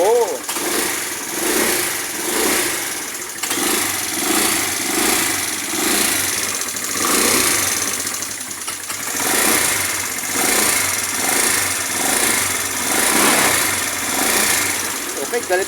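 A motorcycle engine fitted with a triple-electrode spark plug runs steadily and loudly throughout, with a pulsing, busy mechanical roar and a person talking over it.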